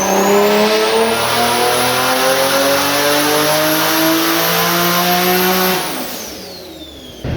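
A turbocharged, roughly 1000 hp Infiniti G35 on pump-gas tune accelerates hard on the street, its loud engine climbing steadily in pitch with a whining spool before the throttle lifts near the end.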